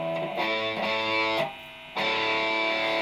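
Heavily distorted electric guitar run through a ZOOM G3 multi-effects unit with the BG Crunch amp model plus a Governor distortion pedal, playing a few thick sustained chords with a brief drop between them.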